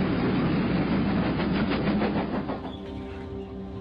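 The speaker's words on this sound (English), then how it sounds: "There's something about the click of wheels on rails that soothes me." Train wheels click rhythmically over rail joints on a ride along the Wirral Way toward West Kirby, a steady close rumble with repeating clacks that soften slightly toward the end.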